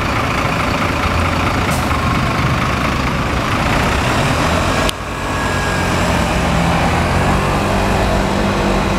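A Citelis 12 city bus diesel engine runs steadily and loud, a deep continuous rumble with a brief hiss partway through, like a bus idling or driving.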